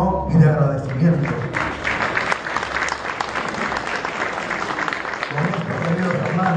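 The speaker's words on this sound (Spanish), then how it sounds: "como lo ha planteado el arquitecto Romero, para quien yo le pido mi aplauso fraterno y de agradecimiento." Fraternal applause from a gathering of community leaders in Villa El Salvador honoring an architect, dense steady clapping that fills the room for several seconds under brief voices before tapering off.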